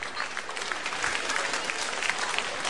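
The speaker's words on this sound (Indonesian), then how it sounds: "tepukan untuk pengkritik-pengkritik kita" Studio audience applauds steadily at a televised singing-contest concert, a dense even patter of claps that fills the whole stretch with no voices on top.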